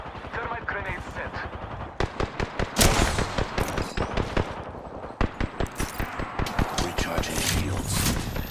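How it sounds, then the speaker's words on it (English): Thermite grenade and heavy gunfire in the Apex Legends battle royale game, with dense rapid shots, metallic clanks and bursts piling over one another, loud and continuous throughout, with faint game voice chatter underneath. "Thermite grenade set."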